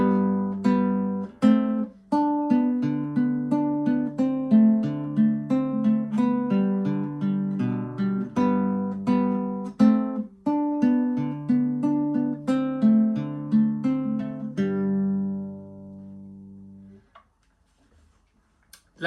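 Classical guitar playing bars 17–24 of Carulli's Valse no. 21, Op. 241: a steady plucked waltz of melody notes over bass, evenly paced and close, ending with a held final chord that rings out and fades into silence.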